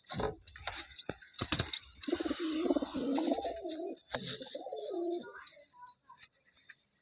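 Pigeons, including a Gola pigeon, coo in low, throaty bursts close by, with fluttering and scuffling noises scattered through.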